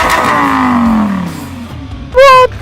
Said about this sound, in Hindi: जो गाड़ी है वो एक रोर के साथ में, दहाड़ के साथ में स्टार्ट होती है